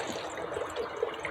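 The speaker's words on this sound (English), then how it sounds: "So as I pour coolant in" Coolant trickles steadily as it is poured into a car cooling system at a failed thermostat housing, a soft continuous liquid pour, close and fairly faint.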